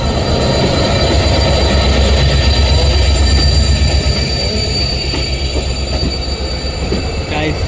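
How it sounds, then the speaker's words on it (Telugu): A diesel locomotive-hauled train rolls past close by at a station near Kollam, with a steady heavy rumble of engine and wheels, rattling cars and occasional high metallic wheel squeals throughout. "అది పోతుంది డీజిల్ ఇంజిన్."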